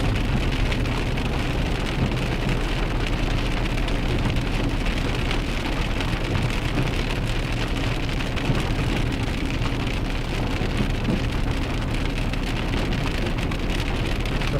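Steady downpour in a Virginia thunderstorm, loud, close rain drumming on surfaces in an even roar, low rumble beneath, no speech.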